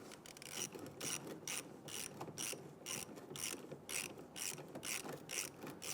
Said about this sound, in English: We're going to use a 9/32 socket with extension. We want to go ahead and loosen this hose clamp.